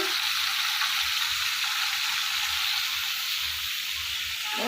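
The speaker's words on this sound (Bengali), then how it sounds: "এখানে লোটে মাছ হলুদ লবণ দিয়ে ভাজা হচ্ছে" Lote (Bombay duck) fish coated in turmeric and salt frying in a pan, a dense, even hiss of hot oil that holds loud and close throughout with no talk.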